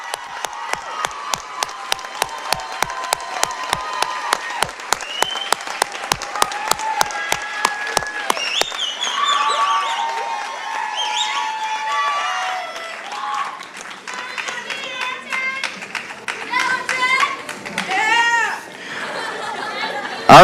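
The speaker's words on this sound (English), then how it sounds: "Round of applause, please." Audience applause at a high school sports awards ceremony, steady rapid clapping for about eight seconds that fades into cheers, laughter and crowd chatter.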